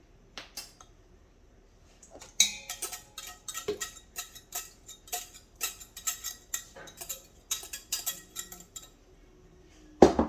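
Dry cake ingredients for a vegan chocolate cake being scooped out and dumped into a bowl, heard as a long series of close, light tapping, scraping and clinking strokes of a scoop against a container, irregular and fairly quiet.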